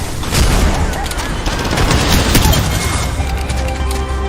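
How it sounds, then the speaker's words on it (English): Dense video game gunfire rattles continuously at close range in loud overlapping bursts. "Contact with hostile. Opening fire on the enemy."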